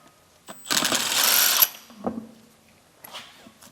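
A power tool whirs loudly for about a second, spinning lug nuts off a wheel of a 2002-2007 Honda Accord with a 19 mm socket, followed by a few fainter metallic clinks and knocks nearby.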